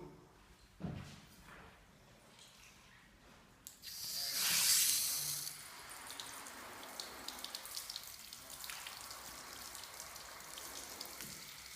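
Water is poured over a motorcycle's fairing and plastics for a water test, a brief hissing splash rising around the middle and then a quieter patter and dripping, faint and close.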